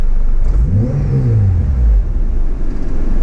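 A 2002 Acura RSX Type-S engine revs up close, the pitch sweeping up and falling back once over a steady, heavy rumble.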